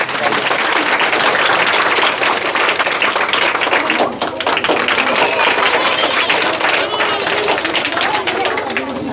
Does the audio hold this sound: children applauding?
yes